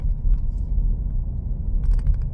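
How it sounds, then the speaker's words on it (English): The V6 engine of a 2019 Toyota Sienna minivan at full throttle gives a loud, steady low rumble from inside the cabin, with a brief light rattle near the end. "I really floor the throttle, in which case then van downshifts like crazy and makes a lot of sound"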